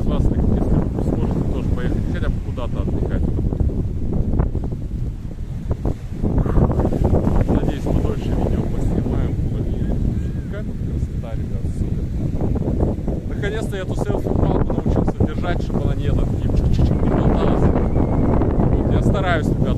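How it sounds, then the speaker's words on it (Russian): Steady warm wind on a Maldives beach rushes and buffets against the microphone, a constant low roar with gusting rumble throughout. "Тут ветер меня немножко теплый задувает."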